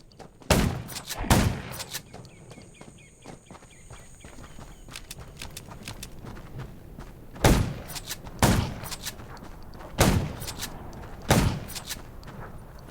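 Gunfire in the zombie survival video game Undawn: sharp single shots spaced a second or more apart, a pair early on and a group of four later, over a low rumbling game background.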